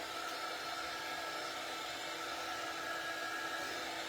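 A hair dryer blowing on wet paint on a wooden star Santa ornament, a steady, close whooshing hiss of air that holds even and unbroken throughout with no other sounds.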